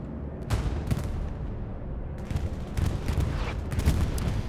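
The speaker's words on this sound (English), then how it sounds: "Bombing run is coming in." Axis bombing run on the Stalingrad map in Hell Let Loose, heard as dense, continuous rumbling with scattered heavy booms and bursts of gunfire throughout, with no talk.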